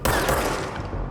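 Continuous gunfire in the video game Control, a dense, loud burst of rapid shots filling the whole moment with no gaps or voices.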